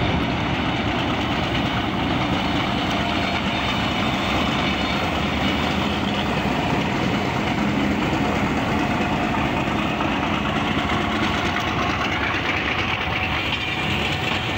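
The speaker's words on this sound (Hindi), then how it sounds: "ये अराइवल हो रहा है 35 अप सर सैयद एक्सप्रेस का" The 35 Up Sir Syed Express pulls into Faisalabad railway station behind a diesel locomotive, a loud, steady engine drone and rail rumble that goes on without a break and with no voices.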